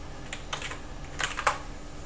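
A uname command is typed on a QWERTY computer keyboard, giving a few soft, close key clicks in short irregular bursts over a quiet background.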